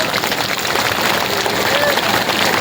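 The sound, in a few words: crowd applause at community gathering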